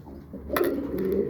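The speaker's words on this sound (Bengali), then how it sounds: "এটা হচ্ছে আমার কোকা কবুতর।" A Koka breed pigeon in a rooftop loft gives a brief, soft, throaty coo, close by and fairly quiet.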